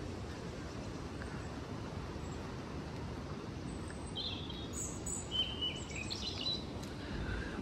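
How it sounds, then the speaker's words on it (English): A robin and blue tits sing in a warm, sheltered garden, with scattered high chirps and short song phrases rising over a constant low hum of distant traffic. "Robin and blue tits."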